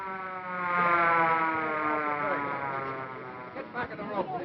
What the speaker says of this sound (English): Ah, it's just an ambulance.